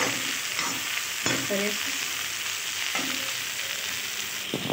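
Soybean and spring onion curry stirred in a frying pan, steady broadband sizzle throughout with a few sharp utensil scrapes and clinks, close and fairly loud, with brief low speech near the end.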